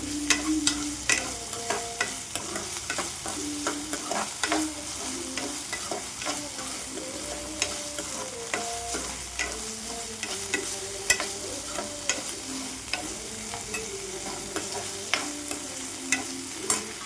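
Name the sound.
potato and green tomato sautéing with cumin and mustard seeds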